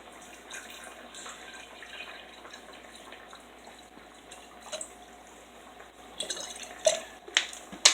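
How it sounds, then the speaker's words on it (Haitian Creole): A little water is poured into a clean container while preparing Prolessa Duo: soft, close drips and splashes that build into a few sharper spatters near the end. "Je mets un petit de l'eau dans un récipient propre."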